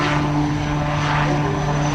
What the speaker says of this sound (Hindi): जिस तरह से ये हेलीकॉप्टर, ये चॉपर भारतीय वायुसेना का इस समय आप देख रहे हैं, एकदम स्थिर आसमान में